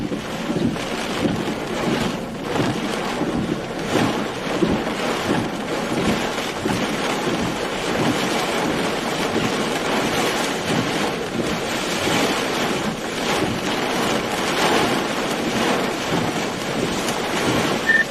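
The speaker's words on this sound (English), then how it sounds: "I just got big wind back there." Strong tornado wind in Elberta, Alabama blows in continuous loud gusts and buffets the microphone with a roaring rush that swells and ebbs, with no talking.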